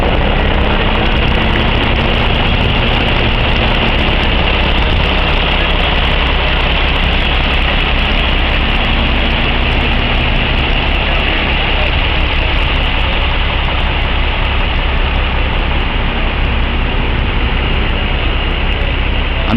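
A log truck's diesel engine idles at a rollover scene on an Arkansas highway, with a loud, continuous, low rumble and drone that holds steady throughout at close range.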